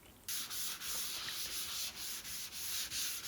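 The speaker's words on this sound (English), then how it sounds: "blow all the dust out of those nooks and crannies with some compressed air" Compressed air hisses steadily as it blows dust out of the nooks and crannies of a sanded Range Rover body before priming, a loud, continuous rushing sound with slight pulsing, heard alone without any talk.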